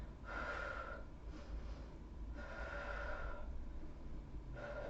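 Rhythmic, forceful exhaled breaths during an abs and inner-thigh workout, three or four strong puffs spaced about a second apart, close and fairly quiet.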